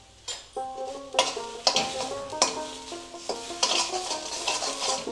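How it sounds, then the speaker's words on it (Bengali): Bottle gourd leaf paste, village style, is stirred and fried in a pan, with repeated scraping strokes and light sizzling under a melodic background tune, close and moderately loud. "দিয়ে ভালো করে এটাকে আবার ভেজে নেব"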